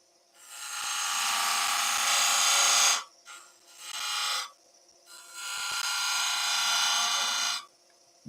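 Wood turning on a lathe under a skew chisel, heard as three close, sustained hissing scraping cuts separated by short pauses, over a faint motor hum.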